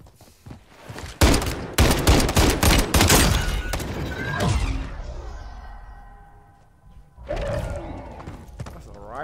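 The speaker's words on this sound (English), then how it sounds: "That's a rifle." Rifle gunfire in the video game Warzone: rapid close bursts of sharp shots in the first few seconds, then a lull and another short burst near the end, with in-game effects between them.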